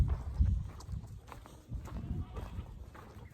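Hooves of several goats clatter and shuffle on the ground in uneven bursts, with soft rustling between steps.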